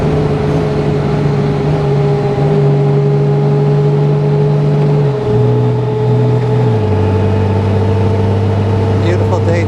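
Steady engine drone from a 2021 Honda Gold Wing DCT motorcycle while riding on a warm day, loud and close, with smooth tone drops as the automatic gearbox shifts and a rider talking over it.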